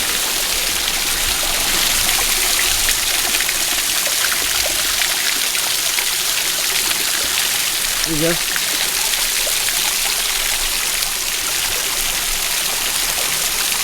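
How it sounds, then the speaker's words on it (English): A stream of cold, slightly brown water rushes steadily and loudly close by, a continuous broadband wash that runs the whole time under brief speech. "the water flowing on this side and this side"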